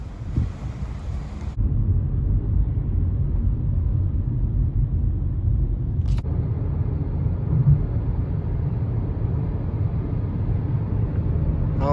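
A car drives across town in Bedford with a storm ahead, heard as a steady low road rumble and wind from inside the vehicle that grows louder after the first seconds, with no talking.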